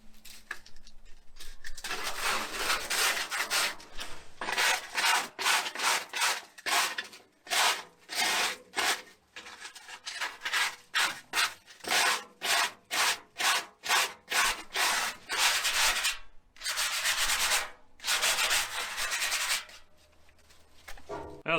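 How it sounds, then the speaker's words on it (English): A steel pit cooker is sanded by hand with 100 grit sandpaper: rapid rhythmic scraping strokes, loud and close, running almost continuously with a few short pauses. "100 grit sandpaper, and I've got 3 pinholes down here in the corner"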